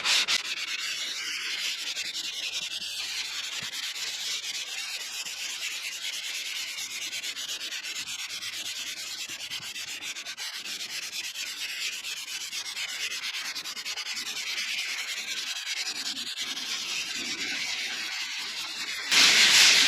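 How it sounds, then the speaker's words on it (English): Continuous scratchy rasp of sandpaper rubbed by hand back and forth over varnished wood on a sailboat, steady and close, with no talking. "I get to do the glorious sanding."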